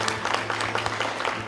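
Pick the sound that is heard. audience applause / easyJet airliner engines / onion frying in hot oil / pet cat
audience applause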